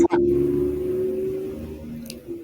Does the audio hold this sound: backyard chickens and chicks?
no